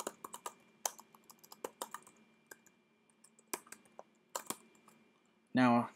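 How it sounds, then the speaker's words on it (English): Keys clatter on a computer keyboard as an email address is typed, a close sequence of sharp clicks in irregular bursts with gaps, followed by a short burst of speech at the end. "Type in whatever email address you want to attach to it."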